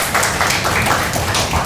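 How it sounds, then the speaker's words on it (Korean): An audience at an archaeology academic conference gives a short burst of steady applause, a dense patter of many hands clapping in a hall. "큰 박수 부탁드립니다."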